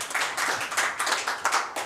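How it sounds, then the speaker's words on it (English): Applause at a residents' conference evening session congratulating an award winner: a modest group clapping in uneven waves, fairly close and moderately loud, briefly filling the pause. "We got some real applause."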